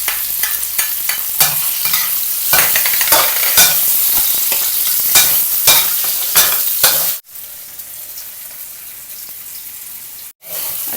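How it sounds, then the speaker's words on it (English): Tofu and shallot stir-fry in a pan for pad Thai, with a loud, steady sizzle and frequent stirring scrapes that cut off abruptly, then leave a quieter crackle with one brief gap. "Stir fry until it's crispy and golden, and shallot in there."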